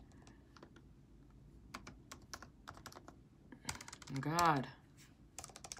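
Close, quiet typing on a MacBook Pro keyboard comes as irregular clusters of light key clicks. Someone briefly speaks over the keystrokes partway through.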